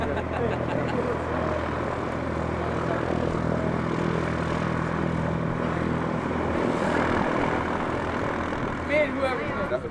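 A small propeller airplane at a youth flight event, its engine droning loud and steady throughout as it takes off, with broadband roar and faint voices in the background.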